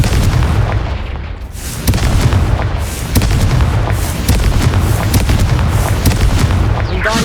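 Confringo blasting spell explosions in the video game Hogwarts Legacy, loud repeated booming blasts and crackling bursts in rapid succession, with a near-continuous roar and sharp impacts throughout.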